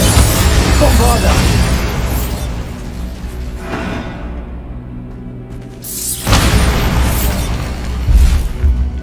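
Bombarda spell explosions in a Hogwarts Legacy battle: loud, deep booms with rushing bursts, a heavy blast early, a brief lull, then another strong burst and rumble, all close and dominant.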